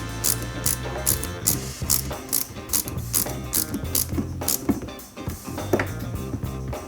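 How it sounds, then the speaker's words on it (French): Rapid ratcheting clicks from tightening a wheel on a 1/8 scale Alpine A110 1600S model kit, close and crisp in uneven bursts with brief pauses. "on va serrer jusqu'à ce que la roue soit bien fixée"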